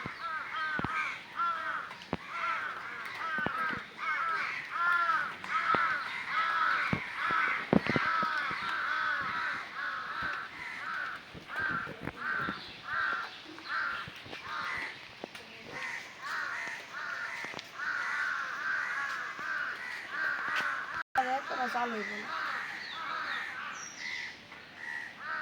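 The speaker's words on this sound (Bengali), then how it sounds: "অনেক কাক আছে।" Many crows caw repeatedly outdoors, harsh calls overlapping in irregular bursts at mid distance, with sharp clicks scattered among them and a few other bird calls near the end.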